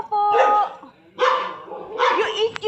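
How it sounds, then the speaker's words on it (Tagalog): A stuck shih tzu barks three times in short, loud yelps close by, with brief gaps between each outburst. "Yung aso kasi naipit."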